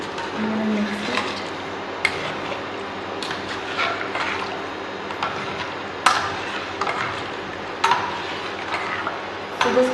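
A caustic soda and salt mixture for batik dyeing is stirred in a container, with a continuous watery swishing, liquid sloshing and occasional clinks against the vessel, close and steady, and no voices.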